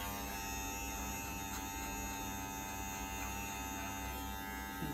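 A Pro Envy cordless hair clipper runs continuously, a steady electric hum with a bright buzzing whine held at an even level throughout, with no talking.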